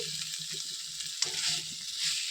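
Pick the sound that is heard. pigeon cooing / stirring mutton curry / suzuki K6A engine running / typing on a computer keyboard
stirring mutton curry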